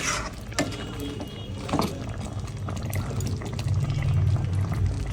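Milk pours steadily into a pot of biryani with a continuous splashing patter, close by, lasting several seconds without any talking.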